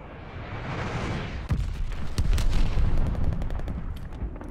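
Glide bomb strike in Call of Duty: Vanguard multiplayer, a rumbling wash that gives way to a sudden heavy impact and a dense burst of blasts and crackling gunfire, loud and close, carrying on with scattered sharp reports.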